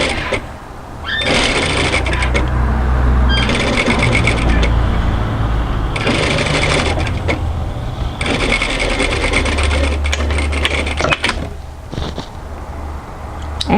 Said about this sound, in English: I'm going to sew a line of edge stitch, a top stitching parallel to my first row of stitching